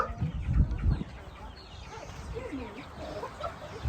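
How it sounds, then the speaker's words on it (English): Chickens cluck and a rooster calls around a chicken coop by a picnic shelter, the birds close and moderately loud over a steady outdoor background. "Look at that rooster."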